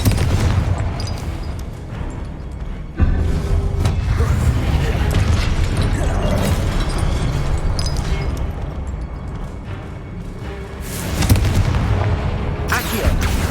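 Confringo blasting spell explosions in Hogwarts Legacy, loud booming bursts that recur through the clip over dense battle noise, with a sharp blast near the start and another surge toward the end.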